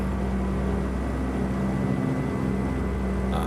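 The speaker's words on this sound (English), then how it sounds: "I would rather listen to the turbo and this engine than non-copyrighted instrumental music." Truck engine with turbo in American Truck Simulator, a Peterbilt-style Ruda 389 Glider cab: a steady loud drone with a constant low hum and faint whine, unbroken, with a brief higher whistle near the end.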